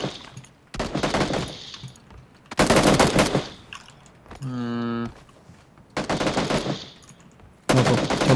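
Automatic gunfire in PUBG Battlegrounds comes in several loud bursts, each about a second or two long, separated by short pauses, with a short rising tonal sound partway through and players talking around the shots.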